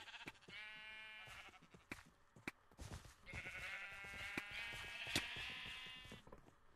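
Sheep in a video game bleat repeatedly, several drawn-out wavering calls in a row, fairly close and clear, with no talking.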